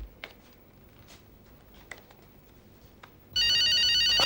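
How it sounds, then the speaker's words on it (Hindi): Quiet room with a few soft clicks, then a loud electronic telephone ring suddenly starts and continues. "इतनी देर से आपको फोन लगा रहा था"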